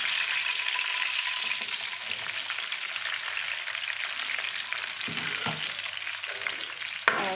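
Onions frying in a pan for a chicken dahi masala, giving a dense, steady sizzle close by with a few stirring knocks near the end.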